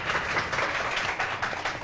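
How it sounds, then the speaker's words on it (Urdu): Studio audience at a Ramzan television transmission breaking into brief, steady clapping, a dense patter of many hands lasting a couple of seconds. "گڑیا کے لیے تالیاں بجائیں یار"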